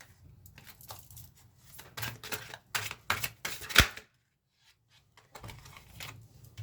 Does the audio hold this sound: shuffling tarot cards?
yes